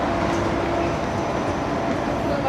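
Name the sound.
train at Benalmádena train station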